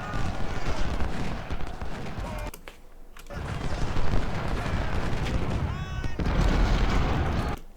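Troops fire volleys in the Civil War strategy game Ultimate General: Civil War, with booming, crackling musket and artillery fire rolling almost continuously, briefly dropping away twice, while someone talks over the battle.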